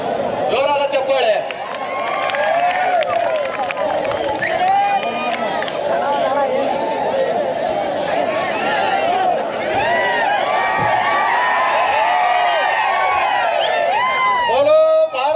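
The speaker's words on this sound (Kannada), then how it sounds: "ಜೋರಾದ ಚಪ್ಪಾಳೆ." Crowd noise at a Shivaji Maharaj Jayanti celebration event in Yadgir: a dense, loud, continuous swell of cheering, whoops and clapping from a large crowd, with raised voices throughout and a brief dip partway through.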